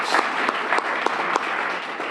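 Audience applause at an afternoon celebration: a dense, steady wash of many hands clapping that holds at an even, fairly loud level for the whole stretch, with no voices over it.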